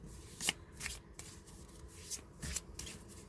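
Tarot cards shuffled by hand nearby, with a series of soft riffling and sliding bursts at an irregular rhythm, quiet and alone.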